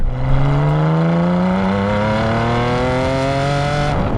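A Ferrari Enzo engine screams up through its rev range, its pitch climbing smoothly and steadily, loud and close, then dropping abruptly near the end, with no speech.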